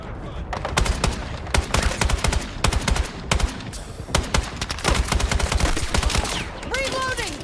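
Video game machine gun fire crackles in rapid, loud bursts of repeated shots with short gaps between volleys, a brief voice-like sound near the end.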